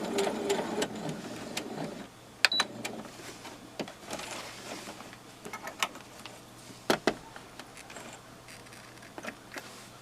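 A sewing machine stitches single fold binding a quarter inch from the fabric edge, running in steady whirring bursts with clicks and a pause or two where the needle stops and the work is turned.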